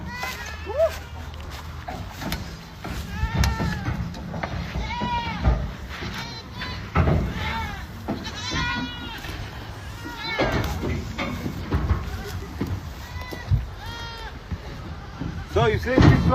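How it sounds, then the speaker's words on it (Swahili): Goats on a Ugandan farm bleat repeatedly and overlap in a noisy chorus of wavering cries, some close and loud, others farther off, with people talking in the background throughout. "Kama unavyoona ni kelele tu hapa, mbuzi."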